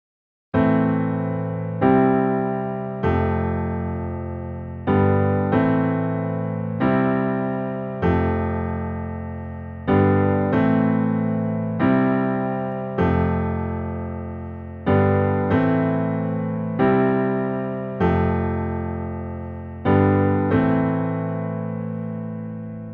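Piano plays the chorus of a song, repeating the same short chord pattern in evenly spaced struck groups that ring out and decay, clear and close with no voices.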